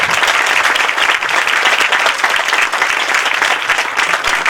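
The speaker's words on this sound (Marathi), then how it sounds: "सगळ्या फॅसिलिटेटरसाठी टाळ्या वाजवाव्या अशी विनंती" An audience at a community reunion event applauds the facilitators, dense, continuous clapping from a large crowd filling the room at steady loudness throughout.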